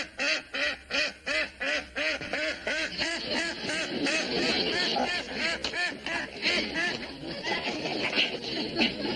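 Ducks quacking in repeated rhythmic bursts, loud and close, with a steady run of calls that later blurs into denser overlapping quacks in a farmyard setting.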